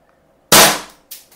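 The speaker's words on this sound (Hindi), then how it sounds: "सारी की सारी गोलियाँ एक जगह फायर करने की कोशिश करेंगे" A Colt Defender CO2 .177 BB air pistol fires at a target, giving one sharp, loud crack followed by a short decay, then a second, quieter pop near the end, with no talk.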